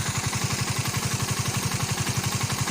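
A Suzuki FU motorcycle fitted with a PWK 32 carburetor idles close by, a steady, fast, even thumping pulse with a mechanical clatter on top and no other sounds.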